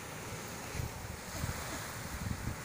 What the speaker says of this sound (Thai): วันนี้มาทะเลเขาพลายดำ